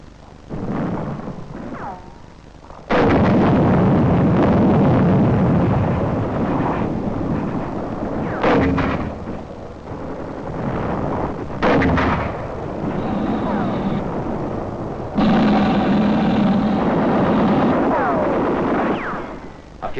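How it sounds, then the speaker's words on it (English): Mortar crew firing in wartime battle footage, loud booming blasts and rumbling detonations in quick succession, with crackling gunfire and a noisy old-film quality. "A mortar crew gets ready for action."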